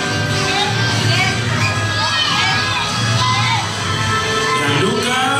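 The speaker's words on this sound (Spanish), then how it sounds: "Aplauso para Gianluca" Children cheer and shout amid a crowd at a school talent show, a loud, continuous mix of high voices and whoops with some clapping, sustained throughout.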